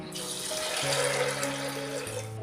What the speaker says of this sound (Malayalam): ഇനി ഇതിലേക്ക് നമുക്ക് കടല വേവാൻ ആവശ്യമായിട്ടുള്ള വെള്ളം ഒഴിച്ചു കൊടുക്കാം.